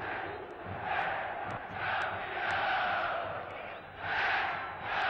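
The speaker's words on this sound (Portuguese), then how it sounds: "a torcida entusiasmada do Cruzeiro não seria diferente. Grita, é campeão" Enthusiastic Cruzeiro football supporters fill a stadium before a 2003 Brazilian championship match against Paysandu, a broad, distant crowd roar swelling and chanting in waves throughout.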